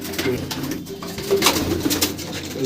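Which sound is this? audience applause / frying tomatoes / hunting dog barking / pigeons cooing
pigeons cooing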